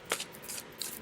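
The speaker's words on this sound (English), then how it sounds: "I'm going to shuffle the cards a little bit" Oracle cards are shuffled by hand in a few quick, papery riffling bursts, close and crisp within a single second.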